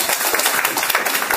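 A small lecture audience claps to welcome the second group of presenters, quick, close, uneven hand claps that fill the short moment at a lively, steady level.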